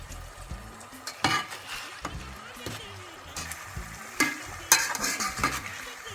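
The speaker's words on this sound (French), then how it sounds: "je laisse mijoter tranquillement, remonter un petit peu" Thiebou dieune fish and rice cooking in a pot, with a soft bubbling sizzle underneath, sharp stirring scrapes and clinks at irregular intervals, and a few faint knocks nearby.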